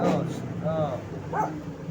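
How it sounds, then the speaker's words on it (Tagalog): A dog gives a few short, yappy barks nearby while a person talks over them, with a motorcycle and tricycle nearby. "Ayun po, si Puti po yung tumatawal"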